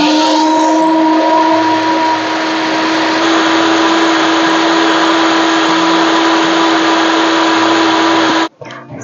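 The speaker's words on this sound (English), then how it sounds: "I'm going to put this in a blender to make it a nice smooth gravy" A blender whirs loudly and steadily as it purees a gravy mixture for restaurant-style shahi paneer, a constant high motor drone for about eight seconds before it cuts off abruptly.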